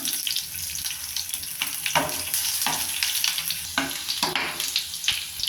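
Potatoes fry in oil in a pan for a chicken and potato curry, giving a steady close sizzle. Scraping stir strokes and clinks of a utensil against the pan come every second or so.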